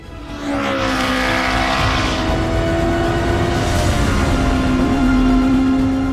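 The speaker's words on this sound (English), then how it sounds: "Listen in the distance for the sound of that tortured 1300cc turbocharged engine" A 1300cc turbocharged race car climbs the mountain at Pikes Peak, its strained engine droning loud and steady with a rising tonal whine and a hint of tire squeal, continuous and fairly close throughout.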